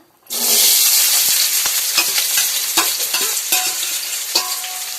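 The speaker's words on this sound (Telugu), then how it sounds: "ఆయిల్ వీటికి ఎక్కాక పచ్చిమిరపకాయలు ఉల్లిపాయలు వేసేసుకుందాం" Green chillies and onions drop into hot oil in a pan, setting off a sudden loud sizzle that holds steady, with sharp crackles and a few metallic stirring scrapes, very close.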